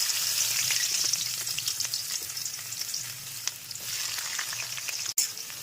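Chopped onion sizzling in hot mustard oil in a kadai, a steady close frying hiss with occasional stirring scrapes and a brief clunk near the end.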